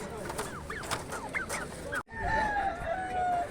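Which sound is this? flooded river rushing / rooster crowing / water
rooster crowing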